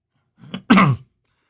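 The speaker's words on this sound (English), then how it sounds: "I'm really coughing." A single short, sharp cough, close and loud, in otherwise quiet surroundings.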